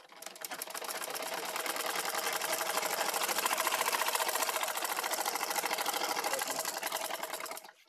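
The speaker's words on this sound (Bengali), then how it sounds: "তো আমরা একটি সেলাই দিয়েছি, তো আরেকটি সেলাই দিয়ে দেব।" A sewing machine stitches a seam in denim jeans, running in one steady, fast mechanical rattle for several seconds before stopping abruptly.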